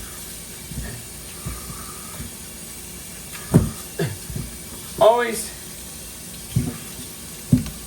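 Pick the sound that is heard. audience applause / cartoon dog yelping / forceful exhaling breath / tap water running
tap water running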